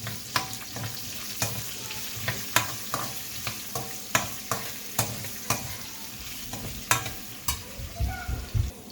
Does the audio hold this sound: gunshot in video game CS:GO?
no